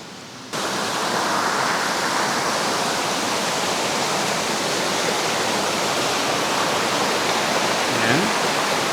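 Cold water rushes through a forest stream on a mountain hiking trail, a loud, steady broadband flow that starts abruptly and continues close by, with no talk over it.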